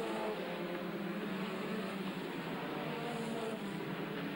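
Superstox stock cars racing at Wimbledon, a steady distant engine drone with no clear pass-by, carrying on without pause and no talk.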